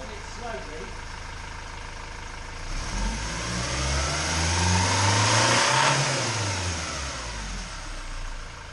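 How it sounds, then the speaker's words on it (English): A 2006 Ford Transit 2.2 diesel van engine, after EGR valve work, revs up slowly from idle without choking or coughing, rising to a steady drone and easing back slightly, fairly close and continuous. "when I throttle it slowly, we don't get that choking, coughing sound from the engine"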